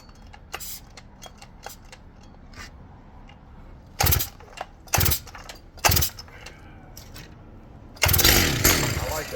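Homelite 880 chainsaw being pull-started: three loud rasping bursts from the recoil starter spaced about a second apart, then a louder sustained roar as the big engine catches, with quiet clicks between pulls.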